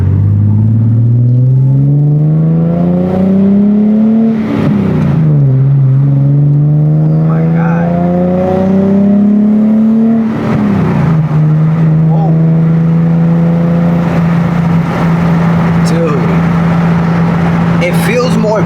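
A Nissan 370Z Nismo engine drones loudly from inside the car, rising in pitch as it accelerates, dropping at two gear shifts, then holding a steady rumble. Talk is heard over it.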